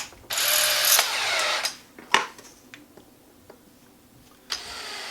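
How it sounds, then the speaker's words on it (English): A power drill runs with an 11/32 bit to bore an air vent hole through a DIY kit part, a loud sustained whine for about a second, followed by scattered clicks and knocks of handling. "And I just drill a vent hole."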